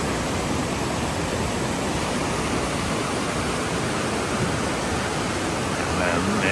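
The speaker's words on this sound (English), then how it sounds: "I love the sound of waterfalls." A waterfall near Peja, Kosovo roars in December, a loud, unbroken broadband rush of falling water that stays constant from start to finish.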